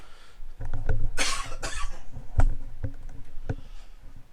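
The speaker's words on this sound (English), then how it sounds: "I don't know where this cough came from all of a sudden." A single close cough bursts out in two quick harsh pushes, surrounded by light mouse clicks and keyboard taps at a computer during a flight combat game.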